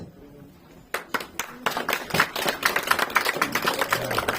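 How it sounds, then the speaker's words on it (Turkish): A stage audience applauds to welcome a performer at the opening of a Kryashen cultural month in Tyulyachi; after a second of near-quiet, dense clapping breaks out and builds into sustained, lively applause. "Hürmetli tamaşaçılar, alkışlar белән каршы алыгыз."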